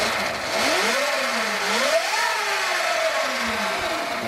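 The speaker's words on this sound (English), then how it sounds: "I'm gonna fire the bike up, put it on race 1. Alright, give it a little throttle." A Sur-Ron electric dirt bike set to race mode whines up and down under throttle, several rising and falling pitch sweeps close by, with no voices.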